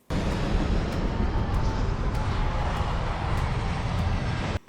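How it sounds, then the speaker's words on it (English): Steady, loud roar of a low-flying fixed-wing aircraft passing overhead, broadband rumble sustained throughout and cutting off at the end, with no talking. "Did they divert where they're landing the planes?"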